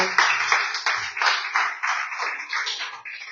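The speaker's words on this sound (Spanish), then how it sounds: "Un aplauso." A church congregation breaks into applause: brisk, fairly close clapping in pulsing bursts that continues evenly for a few seconds without speech.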